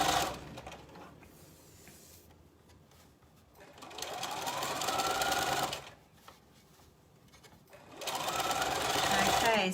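A sewing machine runs a row of stitching on a summer skirt with an elasticated waistband, in three steady whirring bursts separated by short quiet pauses, close and fairly loud.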